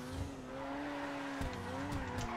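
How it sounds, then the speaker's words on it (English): A rear-wheel-drive Koenigsegg-based supercar in a GTA game, its engine holding a steady high drone with rising and falling pitch, tires squealing through a corner, with brief sharp shifts near the end. "Rear wheel drive car, based on the supercar, the Koenigsegg."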